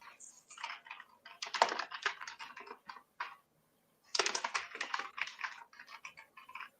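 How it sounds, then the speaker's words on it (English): Rapid, forceful typing on a computer keyboard clatters in close bursts, breaking off once for a short pause before resuming just as hard. "Why are you typing like that?"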